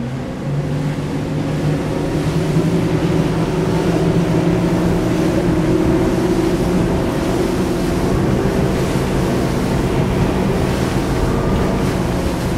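An Axopar 37 XC boat with twin Mercury engines accelerates for fast cruising off Mallorca, with a loud, continuous engine drone mixed with rushing water and heavy wind buffeting close to the microphone, and no speech.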